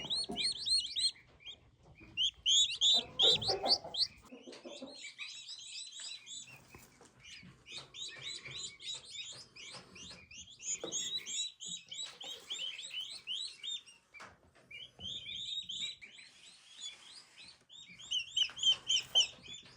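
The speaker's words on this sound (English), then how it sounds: "These cute little guys right here are red bourbon turkeys." Baby red bourbon turkey poults in a brooder cheep and peep in rapid high-pitched bursts, many chicks calling together at close range with brief pauses, no talking.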